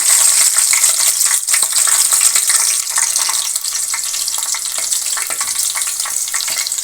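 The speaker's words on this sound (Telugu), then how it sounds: "బౌల్ పెట్టి ఆయిల్ వేసి ఆయిల్ హీట్ అయిన తర్వాత పచ్చిమిర్చి వేస్తున్నాను" Green chillies drop into hot oil in a bowl and fry with a loud, continuous crackling hiss, close by and steady with no voices.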